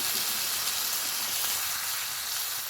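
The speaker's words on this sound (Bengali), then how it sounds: "তো এখন এই যে পরিমাণ মতো জল দেবো।" Water poured into a hot pan of simmering curry brings a steady broadband hiss and sizzle, close and even throughout, with no talking.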